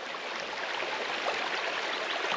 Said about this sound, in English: just the sound of that water trickling